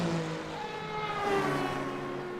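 GT3 race cars, an Aston Martin and a BMW, scream past at Monza in a racing video game, engines whining at high revs with shifting pitch as they pass and fade.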